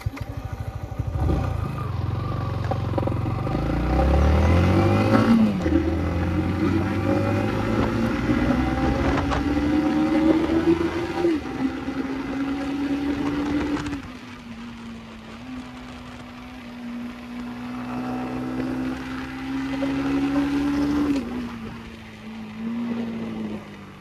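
A Yamaha MT15 155cc motorcycle engine on a ride test climbs steadily in pitch through the gears, eases off, then pulls up again, droning loud and close beneath rushing wind noise.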